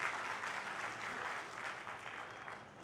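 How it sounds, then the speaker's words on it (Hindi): Audience applause at a poetry recital (kavi sammelan) during the Aligarh Mahotsav 2022, a dense, steady wash of many hands clapping, fairly distant and sustained throughout with no voices over it. "एक बार तालियां बजा दें"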